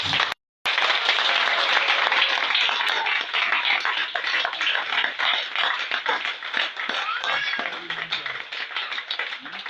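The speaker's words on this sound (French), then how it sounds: "je veux des acclamations pour le prophète" A church congregation claps and cheers for a prophet in a long, dense burst of applause that starts abruptly after a brief gap and tapers off gradually.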